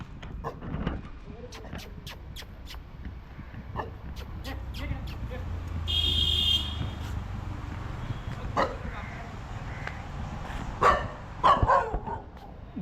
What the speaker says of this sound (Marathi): ते कुत्रा अंगावर भुकू आलं